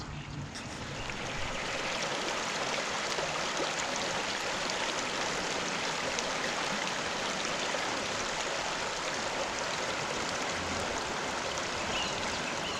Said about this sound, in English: And this is the River Tame flowing towards Manchester.